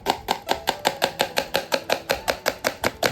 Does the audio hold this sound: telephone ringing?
no